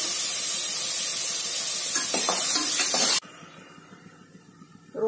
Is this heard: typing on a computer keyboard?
no